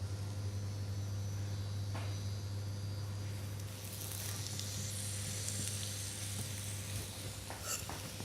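Chopped vegetables fry in a pan with a soft, steady sizzle and crackle, quiet and close, with a constant low hum underneath and no talking.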